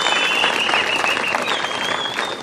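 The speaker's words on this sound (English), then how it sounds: "Let's give them a thunderous round of applause in appreciation" Crowd applause inside a tent at a commemoration event, a continuous even wash of clapping throughout, with a faint high steady tone running underneath.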